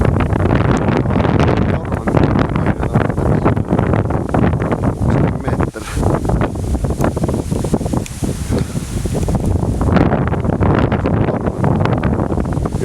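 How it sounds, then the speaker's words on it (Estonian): Strong wind buffets the microphone at Haapsalu bay in Estonia during a small storm with rain, a loud continuous roar with gusty surges and rumbling low noise, with no talk over it. "Tuul on lihtsalt räme. Vihm on ka."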